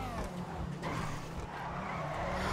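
Car sliding and skidding in the GTA Online video game, a steady tire squeal over continuous engine roar, loud and sustained throughout.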